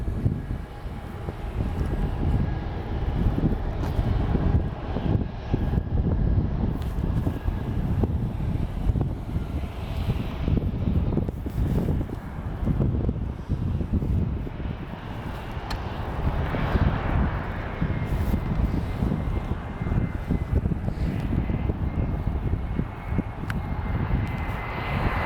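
A Delta ERJ-175 jet airliner arriving at Portland roars steadily as it passes, loud and sustained, with wind buffeting the microphone.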